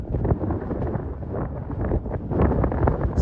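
Strong wind on Black Hill buffets the microphone in a steady low roar, loud and continuous throughout with gusty swells.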